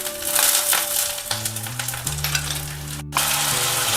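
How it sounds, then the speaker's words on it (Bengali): Ginger-garlic paste fries and is stirred in oil for a Bengali katla kalia: a close, steady sizzle with scraping stirs, one brief dropout near the end, and a sustained tonal hum underneath. "আদা রসুন বাটাটা একটু ভাজা ভাজা করে নিই"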